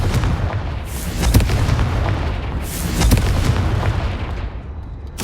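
In the Hogwarts Legacy game, the Confringo spell sets off booming blasts, with two heavier impacts roughly two seconds apart over a continuous loud rumbling roar.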